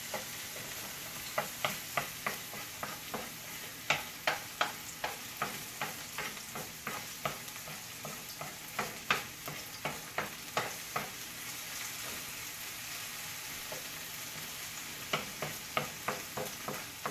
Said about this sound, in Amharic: ዘይትና ቀይ ሽንኩርት ማለት ነው ያበሰልኩ ያለው።